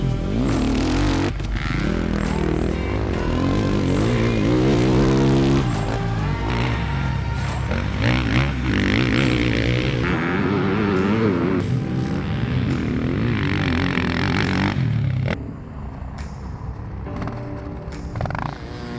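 A motocross bike ridden on a dirt track with the rider barely on the throttle gives a continuous, loud engine drone that rises and falls gently, close by throughout, dropping a little toward the end.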